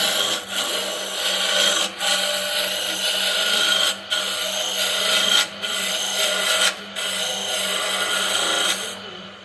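A wooden tool handle being shaped round with a rasp, steady loud rubbing strokes of several seconds each, broken by short pauses, close up and alone.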